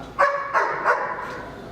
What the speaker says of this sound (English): These are bite dogs at the end of the day, so they have to be very well controlled.